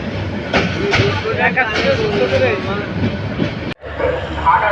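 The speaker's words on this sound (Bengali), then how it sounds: "ঢাকা মেল ট্রেনটি ঢাকা বিমানবন্দর রেল স্টেশন ছেড়ে যাচ্ছে" The Dhaka Mail train pulls out of Dhaka Airport railway station with a steady close rumble and rattle of rolling carriages, a voice talking over it throughout.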